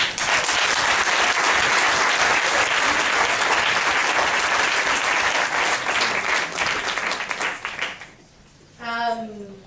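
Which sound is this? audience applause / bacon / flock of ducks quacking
audience applause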